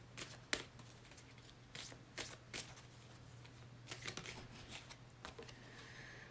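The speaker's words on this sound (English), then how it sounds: "When I shuffle, I'm putting the question into the cards." Tarot cards are shuffled by hand nearby in quiet, scattered riffles and slides over a low steady hum, with no talking.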